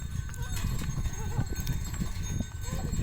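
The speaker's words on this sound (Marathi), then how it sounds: "हळूहळू जात आहे बैलगाडी बैलगाडीत आहे चारा भरलेला" A slow bullock cart loaded with fodder on a farm, with steady clip-clop hoofbeats and creaking movement running throughout, close by and mixed with people talking.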